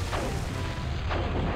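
Artillery cannons fire in the strategy game Cossacks, with a couple of dull booms rising out of a steady, dense battle rumble and no voices over them.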